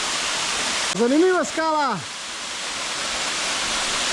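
Water pours steadily over a rock in the Tolminka gorge, a constant broadband rush near the camera, with someone briefly speaking over it.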